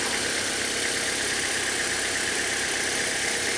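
A car's 2.2 liter Ecotec engine idling steadily nearby, a smooth continuous hum with a faint rattling texture and no voices.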